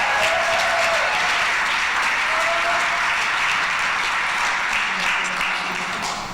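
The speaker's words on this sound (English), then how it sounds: "Give him a big round of applause." Sustained applause from a large concert audience fills the room, dense steady clapping that holds loud throughout and tapers slightly at the end.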